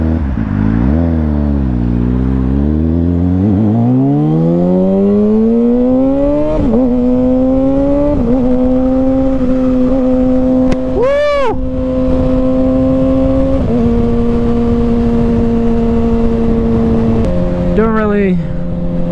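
A 2021 Kawasaki Ninja ZX6R KRT Edition motorcycle ridden at night, loud and close, revving up through rising gear pulls with sharp shifts and a brief high rev blip, with the rider talking over the engine.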